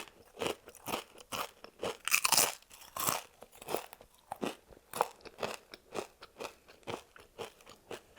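Doritos Cool Ranch tortilla chips are crunched close to the mic in a steady run of crisp bites and chews, each crunch evenly spaced and quiet, with no talking.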